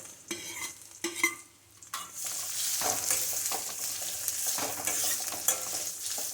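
Onion and garlic sauté in hot oil for a Tamil-style fish curry, a steady close sizzle broken by a few stirring scrapes in the first two seconds, then continuous frying hiss with occasional spoon knocks.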